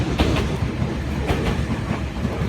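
Passing train rumbling loud and close, with rhythmic clickety-clack of wheels over rail joints throughout and no voices.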